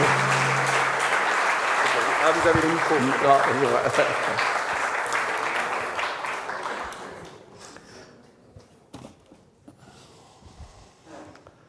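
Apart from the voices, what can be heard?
audience applause at a conference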